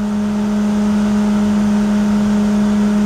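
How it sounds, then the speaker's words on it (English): A C3 Corvette idles with dual 11-inch SPAL electric cooling fans switched on, giving a loud, steady, unbroken drone with a strong low hum and engine rumble, close by and without speech. "You hear the fans turn on because I had the car running"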